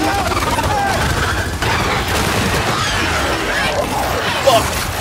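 Explosions and gunfire in the Gears 5 video game, a dense continuous barrage of bursts and booms with a sharper crack near the end, with people talking over it.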